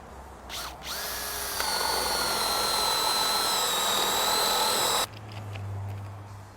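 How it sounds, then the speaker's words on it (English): A power drill drives batten screws into timber, revving up into a loud, steady high-pitched whine for several seconds before cutting off abruptly as it jams and kickback control engages, leaving a lower hum. "we're going to try and jam the drill to demonstrate the kickback control"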